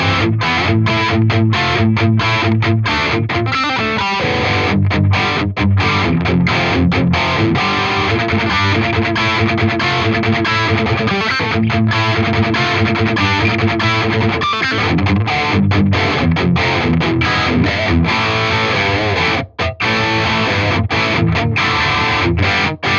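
An electric guitar plays heavy metal riffs through an ENGL Ironball SE amp with lead gain at noon, thick saturated distortion, loud and continuous with tight palm-muted chugs and brief stops, no voices.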